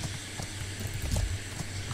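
Horse hooves clip-clop steadily in the ATLAS video game, a continuous run of fairly quiet, even hoofbeats with no voices over them.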